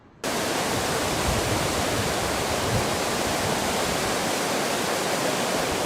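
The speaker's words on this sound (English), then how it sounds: "As you can see, water levels are rising fast and the water hasn't even crested yet." Rushing floodwater of Wet Beaver Creek near Sedona, rising fast: a loud, steady, broadband roar of churning water that starts abruptly and holds constant throughout, with no voices.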